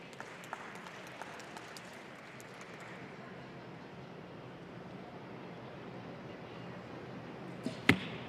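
A recurve arrow strikes the target's nine ring in an indoor women's gold-medal archery final, a sharp thud near the end, after faint crowd murmur and scattered clicks.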